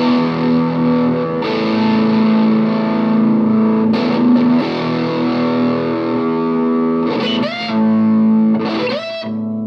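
Electric guitar run through a Tube Screamer overdrive with its bass range boosted, playing sustained distorted notes and chords with bends near the end, loud and close, with no talking over it.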